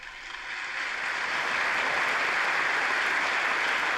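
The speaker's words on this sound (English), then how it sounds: "You don't need applause every single time." Applause from a large audience during a speech, a dense wash of clapping that swells in over the first second and then holds steady and loud, with no voice over it.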